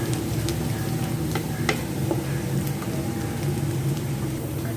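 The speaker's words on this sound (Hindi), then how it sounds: "ये देखें हल्का सा लहसुन सौते हो गया।" Garlic sautés lightly in a pan while cooking restaurant-style dry chili chicken, giving a steady, close, continuous sizzle with soft stirring scrapes and no voices.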